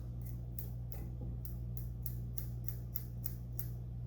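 Scissors snip repeatedly while trimming the materials of a dolphin (mahi mahi) saltwater fly, about a dozen crisp, close cuts at a fairly regular pace over a low steady hum.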